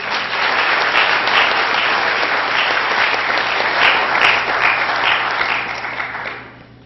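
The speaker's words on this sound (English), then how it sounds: "Applause, applause." Steady audience applause fills a spelling bee hall, dense and even throughout, tapering off in the final moments.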